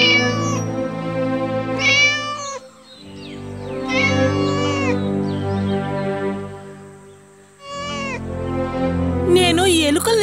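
A cartoon cat meows in long, loud, drawn-out cries, several in a row with a short pause between, over steady background music from a Telugu children's story about a cat and a mouse.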